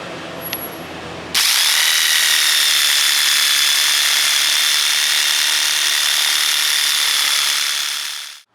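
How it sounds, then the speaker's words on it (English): A power tool cuts through the sleeve of a suspension bushing on a C10 truck rear drop job, a loud steady high-pitched whine that runs continuously for about seven seconds before stopping abruptly, no talking. "we're going to make one cut through the center just to split the sleeve in half"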